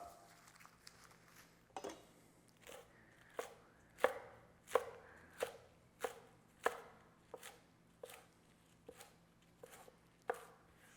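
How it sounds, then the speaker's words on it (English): A knife roughly chops ingredients on a cutting board for a Thai basil stir fry, making a series of crisp, close knocks at an uneven pace over quiet background. "I'm just going to give this a rough chop."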